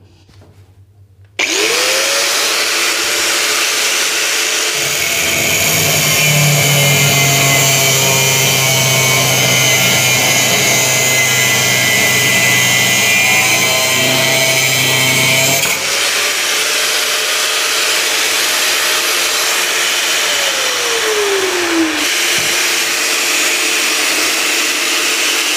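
A cheap angle grinder whirs up and runs at a steady, loud, high-pitched whine for about twenty seconds, with a load change partway through, then spins down near the end.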